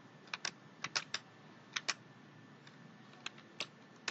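Typing on a computer keyboard in Microsoft Excel, a few short clusters of crisp key clicks separated by brief pauses, quiet and close over faint room noise, with no voices.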